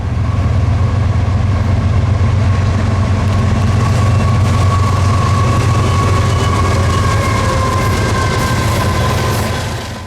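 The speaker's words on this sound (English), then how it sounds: "Q442 is historically a large train" CSX freight train Q442, a long train of 149 cars, rolls past on the Florida mainline near Bushnell in a loud, continuous rumble and wheel roar close by. It stays steady throughout and fades slightly at the end.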